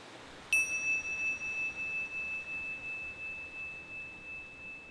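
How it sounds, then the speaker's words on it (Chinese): A single bright bell chime marking the end of a mindfulness exercise, one clear struck tone that rings on with a long, slowly fading sustain over quiet background. "当你听到钟声的时候，"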